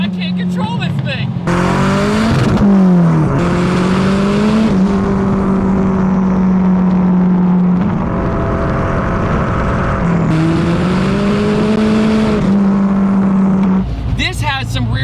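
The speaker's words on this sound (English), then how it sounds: "This has some rear wheel drive spinning, but it's actually controllable." A Toyota Starlet with a Honda S2000 engine swap revs hard with its rear wheels spinning. The engine tone rises and falls steadily and stays loud and close throughout, with a person talking over it.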